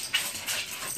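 A Keeshond dog lets out a short, soft whimper, close and faint, with a thin high whine over quiet room noise.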